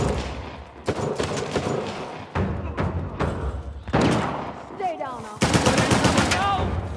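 Shootout in Uncharted: The Lost Legacy, with loud repeated bursts of automatic gunfire and single heavy shots in close succession, broken by brief pauses and a few sharp whooshes.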